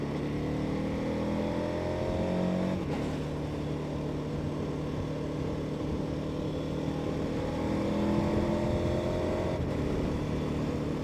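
A KTM 1290 Adventure S motorcycle accelerates to overtake a car on an open road. The engine drones steadily and climbs in pitch under constant wind rush, heard from the rider's position with no talking.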